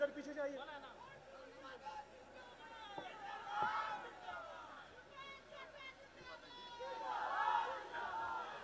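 A large crowd gathered at an outdoor political rally, a distant murmuring hubbub with scattered shouts and cheers swelling at moments, heard under amplified speech.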